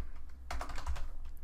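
Quick burst of keystrokes on a computer keyboard while entering the ifconfig command, several close, crisp clicks in rapid succession after a brief pause.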